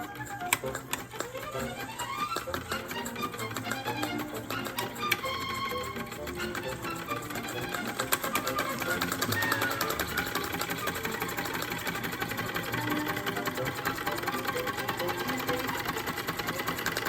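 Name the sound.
small model steam engine kit running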